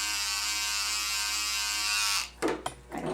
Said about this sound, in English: You take your trimmer,